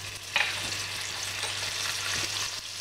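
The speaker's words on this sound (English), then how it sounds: "get a fry pan on the hot stove" Butter melts in a frying pan on a hot stove with a steady, even sizzle, close and moderately loud, broken by a couple of faint clicks and light stirring touches.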